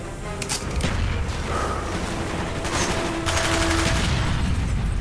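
Gunfire and explosive blasts from a Call of Duty: Black Ops battle, dense, rapid and loud throughout, with a heavier grenade-like burst rising near the end.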